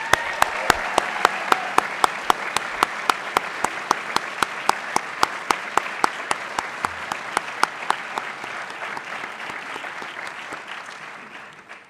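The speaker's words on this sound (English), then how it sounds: "let's give Mrs. LaBounty a nice round of applause" Audience at a school announcements gathering gives a long round of applause, crisp, rhythmic claps over a wash of many hands that slowly thins and fades toward the end.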